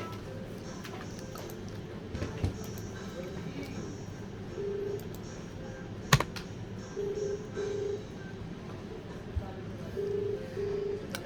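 Computer keyboard typing in an office, heard as scattered, faint key taps and short clusters of clicks under steady conversation and low room noise.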